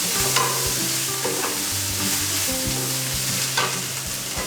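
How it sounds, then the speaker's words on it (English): Panko breadcrumbs stirred in melted butter in a pan, a steady close sizzle with scraping spoon strokes and light clinks against the pan, continuous and fairly loud, with no talking. "Let me give this a quick stir"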